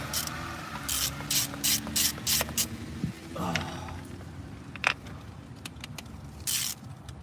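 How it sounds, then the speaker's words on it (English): A hand ratchet clicks in quick repeated bursts while loosening valve cover bolts on a car engine, several rapid clicking runs close by with a few metallic clinks in between and no talk. "So I got 2 more bolts after this, and this valve cover's coming off"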